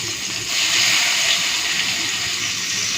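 Chopped onion sizzles in hot oil for a fish curry, with a loud, steady frying hiss that swells soon after it starts and then holds close and even, with no talking.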